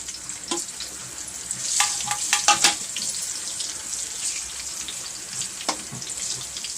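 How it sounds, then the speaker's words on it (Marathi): Soybean chunks coated with ginger, garlic and salt frying in a pan, a steady oily sizzle with a few sharper crackling bursts and stirring, close and moderately loud, no talking. "सोयाबीन हे लावून ठेवलेले होते, आलं लसूण वगैरे मीठ आणि ते घालून फ्राय करते आहे"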